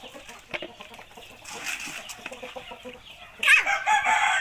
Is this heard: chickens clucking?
yes